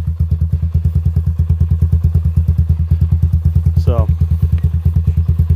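A 1985 Honda ATC 200X three-wheeler idles steadily with the choke fully off in 20-degree cold, its engine thumping in a fast, even rhythm close by, and a brief voice cuts in near the end.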